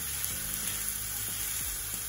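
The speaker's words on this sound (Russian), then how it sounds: "И в этой же сковороде начинаю обжаривать лук." Onions fry in oil in a pan, making a steady, dense sizzle with small crackles throughout, close and continuous, and no voices.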